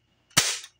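Nerf blaster firing a single dart, one sharp, loud pop with a brief airy burst, close up and isolated in silence.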